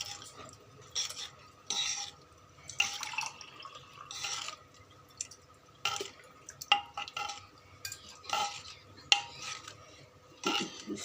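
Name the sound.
stirring sambar rice in pot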